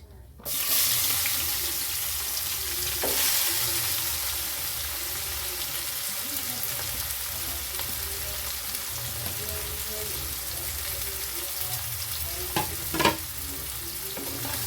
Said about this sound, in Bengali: গ্যাসের ফ্লেমটা মিডিয়াম করে পেঁয়াজটা আমি ভেজে নেব